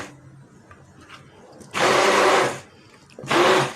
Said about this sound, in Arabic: وانا غنضربهم ان شاء الله بهذا الخلاط